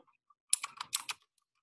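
Quick keystrokes on a Linux computer's keyboard, a short burst of about six crisp clicks close up in a quiet room.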